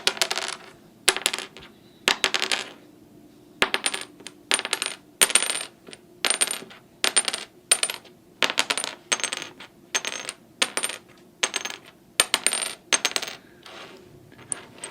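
A piece of bone guitar nut material is tapped repeatedly, giving a long run of sharp, bright clicks in an uneven rhythm, close and fairly loud with no talking.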